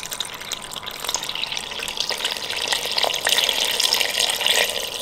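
Water pours into a mini portable washing machine in a steady, close splashing stream that grows slightly louder as it continues, with no voices.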